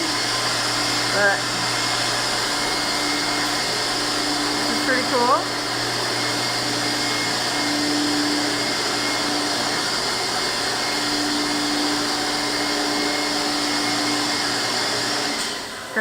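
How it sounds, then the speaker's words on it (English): Milking machines hum steadily inside a farm milking parlor, a loud continuous mechanical drone with a pulsing undertone, while a person briefly talks over it. "here we have the milking parlor"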